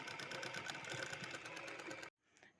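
Sewing machine stitching two fabric joints together for an antique-style tassel, a loud steady rapid whir of needle strokes for about two seconds that stops abruptly, followed by faint handling noise.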